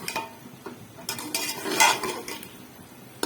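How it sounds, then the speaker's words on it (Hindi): Cubed potatoes are stirred and fried in a pot of meat masala for aloo gosht, with a spoon scraping and clattering against the metal and a light sizzle underneath, loudest midway. "आलू को थोड़ा सा भूनेंगे 2 मिनट।"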